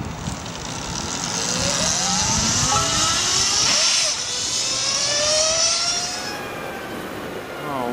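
Lightning LS218 electric superbike accelerating hard at full throttle on a hilly road, a rising high-pitched electric whine sweeping up in pitch with wind rush, loud and close, with a voice speaking over it.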